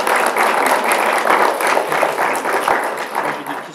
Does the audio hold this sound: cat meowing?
no